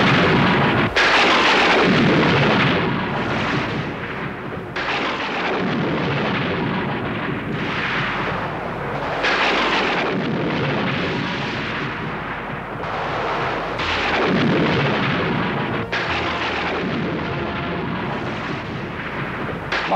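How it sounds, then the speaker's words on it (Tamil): Dramatic roaring blasts meant as the sound of Arjuna's special divine weapon in a mythological battle scene, heavy rumbling booms and crackling bursts swelling and surging continuously for twenty seconds, loud and dense. "இது அர்ஜுனனின் விசேஷ ஆயுதத்தின் ஒலி."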